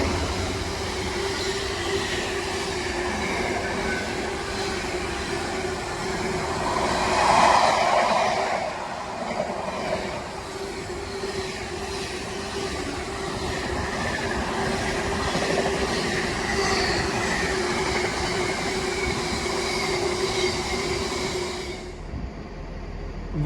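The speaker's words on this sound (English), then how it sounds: "here comes the freight train running from Southampton to East Midlands" A freight train from Southampton to East Midlands Gateway, hauled by locomotive 66708, rolls past close by for over twenty seconds in a continuous loud rumble. Wheels clatter and squeal faintly along the track before the sound drops off at the end.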